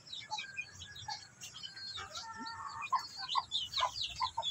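Chick peeping in high, thin repeated calls over soft clucking from chickens on a farm, close and fairly quiet, with a low rumble of background noise.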